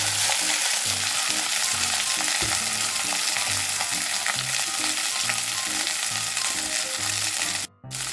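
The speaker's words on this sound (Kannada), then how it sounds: "ನೋಡಿ, ಅನ್ನ ಹಾಕ್ತಾಯಿದ್ದೀನಿ." Loud continuous sizzling as cooked rice for jeera rice goes into a hot pan with salt and peppercorns, with repeated scraping stir strokes of a spatula against the pan bottom in a steady rhythm, close and alone.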